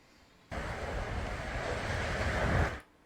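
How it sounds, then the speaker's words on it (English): Ocean waves in played-back video footage, a broad steady rushing wash that cuts in abruptly, holds for a little over two seconds, then stops. "Beautiful bit of ocean."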